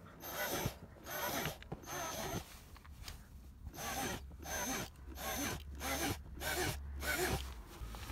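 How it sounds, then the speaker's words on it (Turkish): Side cutters snipping through the plastic inner panel of a Renault Megane 2 front door, giving a run of close, sharp crunching and clicking bursts in uneven rhythm with short pauses between cuts. "Şimdi yan keskiyle deldiğim yerlerden kesiyorum."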